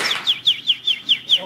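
A woman whistles an imitation of a bird call, a run of six evenly spaced, sharp chirps, close and clear, with no other sound behind them.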